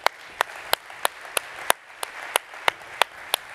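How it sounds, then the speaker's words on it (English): Sparse applause for a speaker at a leadership summit, a handful of sharp, evenly spaced claps ringing out clearly over a soft wash of background clapping. "Can we just give Peter a round of applause?"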